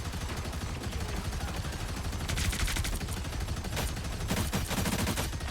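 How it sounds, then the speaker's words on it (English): Sustained rapid automatic gunfire from Punisher's turret in a hero shooter video game, dense and continuous over a busy background of game effects and combat noise, with no voices. "This is probably a good moment to use the turret because I can just sit back."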